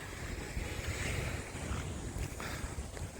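Sea surf along the Malvan coast in Konkan, a steady broadband wash of waves mixed with gusting wind buffeting the microphone, continuous and fairly close with no voices.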